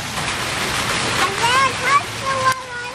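Outdoor water fountain at a town square shopping mall, a steady broadband rush of falling water running throughout, with voices talking and brief tonal chatter over it.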